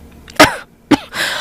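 Two sharp, close coughs burst out in a room filling with smoke during the night, separated by a short pause, followed by a raspy breath, with no talking.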